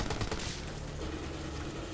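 Rapid automatic gunfire in the video game Borderlands 3, a dense continuous burst of shots that is loudest at the start and then settles into a steady roar, with no talk.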